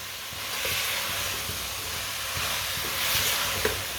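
Potato and cauliflower fry in a pan over a fairly high flame, giving a steady, continuous sizzling hiss throughout, close and even, with no talk.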